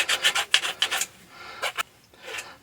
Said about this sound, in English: Now, I take a file.